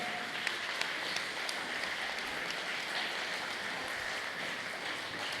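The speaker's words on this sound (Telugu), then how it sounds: "వాళ్ళందరికీ గట్టిగా క్లాప్స్ కొడదాం." Audience clapping at a meditation event, a dense, even patter of many hands that stays steady and moderately distant throughout.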